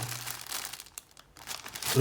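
A plastic polybag holding a LEGO Explorer magazine crinkles in short rustling bursts, close and fairly soft, with a brief pause midway.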